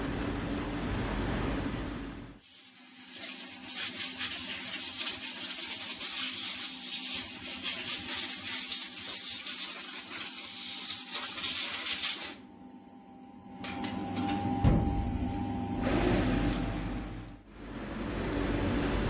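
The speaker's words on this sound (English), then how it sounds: "And that's the parts washer doing its job at the moment." Parts washer running in a workshop while engine parts from a Lancia Prisma HF integrale are cleaned, giving a steady splashing, spraying water wash that holds for most of the stretch, briefly dips and changes tone, then carries on.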